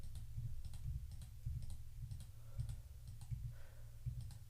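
Quiet, irregular clicks of keys on a computer keyboard, about a dozen soft taps spread unevenly over a few seconds against a low hum.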